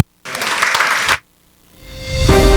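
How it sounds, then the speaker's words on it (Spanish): Audience applause closing a business summit on free trade zones and the economy in Costa Rica, a burst of clapping lasting about a second, then a pause before a swelling musical tone rises. "Un aplauso para todos ustedes."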